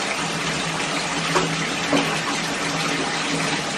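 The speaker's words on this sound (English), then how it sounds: "I don't think he's ever been in water this deep in the bath, has he?" Water sloshes and splashes softly in a deep bathtub as a baby plays in it, a steady wash of gentle movement with a couple of small splashes and no talking.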